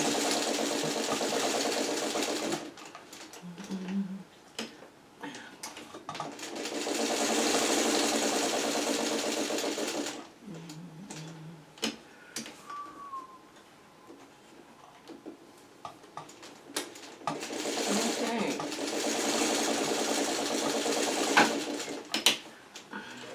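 A sewing machine stitches machine appliqué on a Churn Dash quilt block, running in three steady bursts of several seconds each, with quiet pauses between them for pivoting and turning the fabric.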